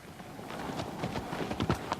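Agro the horse's hooves clip-clop in the Shadow of the Colossus video game, a brief, fairly close run of uneven hoofbeats over steady background ambience.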